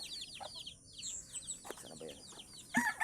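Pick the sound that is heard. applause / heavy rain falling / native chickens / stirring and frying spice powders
native chickens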